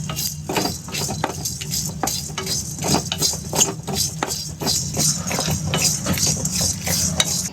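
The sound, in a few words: garam masala stirred and shallow fried in hot kadai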